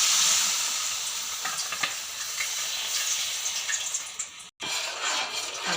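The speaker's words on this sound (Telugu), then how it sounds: "గిన్నె అడుగట్టకుండా ఇలా కలుపుకోవాలి ఫ్రెండ్స్ గరిటె తోటి." A ladle stirs 300 grams of sugar with a little water in a pot for sweet-shop-style sina kommulu syrup. A steady, close bubbling sizzle runs throughout, broken by faint scraping strokes and one brief cut near the end.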